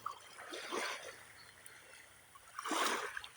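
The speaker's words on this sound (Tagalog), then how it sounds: "Plus kay ganda pakinggan ng lapyan ng tubig dagat sa Dalampasigan." Sea water laps gently at the shore at sunrise, two soft washing swells rising and fading against a quiet background, faint and unhurried.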